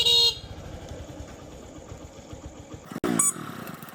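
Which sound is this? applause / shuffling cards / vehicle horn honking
vehicle horn honking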